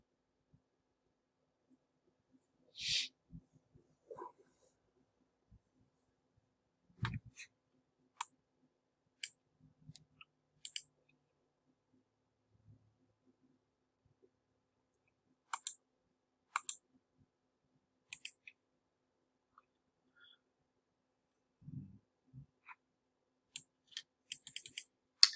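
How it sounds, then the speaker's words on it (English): Scattered mouse clicks and keyboard keystrokes in quiet bursts, faint and close, with long silent gaps between short clusters of taps while someone works at a computer during trading. "Guys may hear some clicking and typing."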